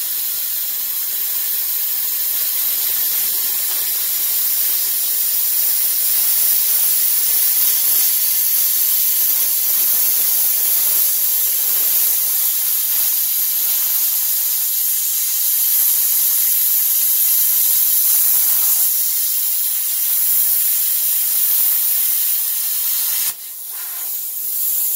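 Toosense Cut50P pilot-arc plasma cutter running at 50 amps, a loud, continuous hissing rush of air and arc that holds steady for over twenty seconds before a brief dip and crackle near the end.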